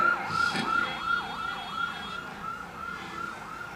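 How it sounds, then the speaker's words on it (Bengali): An ambulance siren wails in a steady, regular rising-and-falling pattern at moderate loudness, passing outside during a religious sermon with no voices over it. "ডানে কি অ্যাম্বুলেন্স যাচ্ছে"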